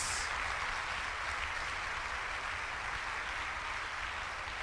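Sustained applause from a church congregation fills the room evenly and steadily, a dense wash of clapping that holds at a constant level with no voices standing out.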